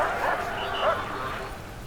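Dogs bark and yip in the Prison Architect prison management game, a few quick barks over a steady background while someone talks over them.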